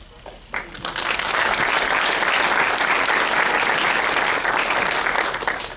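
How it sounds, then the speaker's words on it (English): Audience applause in a room, a sustained round of clapping that rises quickly after a brief quiet start and stays loud and steady to the end. "could they wave their hands so we could thank them with a round of applause"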